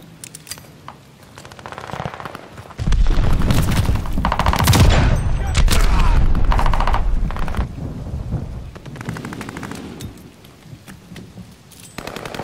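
Strafing-run gunfire in Call of Duty: Vanguard: a long, loud roar of rapid automatic fire and heavy rumbling impacts building up and sustained for several seconds, then fading to scattered shots.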